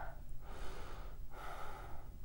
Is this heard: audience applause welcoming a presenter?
no